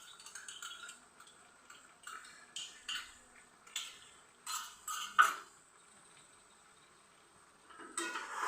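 A spoon stirs fat-whisked sour yogurt into chicken sautéing in a pot for chicken biryani, giving a quiet run of intermittent scrapes and clinks, with a few sharper knocks against the pot.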